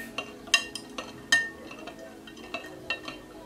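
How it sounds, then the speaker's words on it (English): Something is stirred inside a glass jar, giving a series of light, irregular clinks and taps against the glass, with a few sharper knocks standing out, close and fairly quiet. "And I'm going to stir it"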